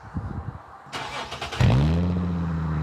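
A custom all-wheel-drive Ford Shoebox car engine cranks briefly, catches and fires up, then settles into a steady idle; some faint handling noises come before the start.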